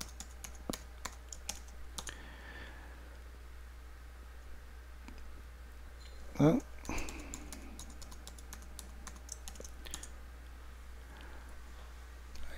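Someone types a password on a computer keyboard. The keystrokes are soft and scattered, with a louder clatter midway, over low steady hum; a voice speaks briefly.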